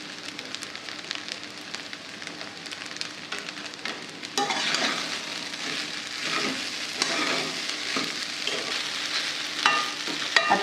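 Sabudana khichdi sautéing in a pan, a steady sizzle and fry with scraping stir strokes that grow louder partway through, close up with no talk.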